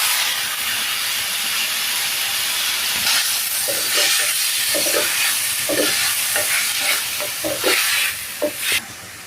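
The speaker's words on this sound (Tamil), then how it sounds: "தக்காளி நல்லா வதங்கிடுச்சு." Onions and tomatoes sautéing in a pan for Madurai-style chicken kari dosai: a steady sizzling hiss with intermittent scraping stir strokes that grow busier toward the end. No voices.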